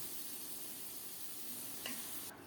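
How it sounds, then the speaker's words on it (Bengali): Teasel gourd and potato pieces frying together in a pan, a soft steady sizzle with a brief stir near the end, quiet and close. "এখন কাঁকরোল দিয়ে দিলাম কাঁকরোল আর আলু একসাথে আবারও সুন্দর করে ভেজে নেব"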